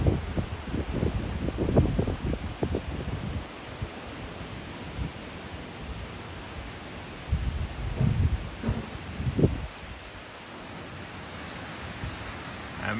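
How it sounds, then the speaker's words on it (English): Gusty wind from a tropical storm moving into Cebu, Philippines, blowing down in a valley with mist and light rain, heavy rushing buffets and surges that rise and fall over a constant broadband roar. "Hear that wind."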